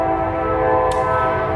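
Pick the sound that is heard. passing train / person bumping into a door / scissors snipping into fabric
passing train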